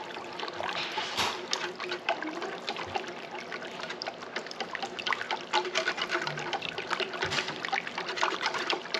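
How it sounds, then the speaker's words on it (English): Turkey drippings pour and trickle into a pan of gravy in a home kitchen, a soft continuous liquid splashing and dribbling, quiet and close with no talking. "So I'm going to add more of the drippings here."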